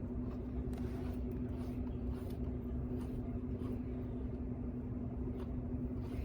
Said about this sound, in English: I hear trucks pulling up, so it might be them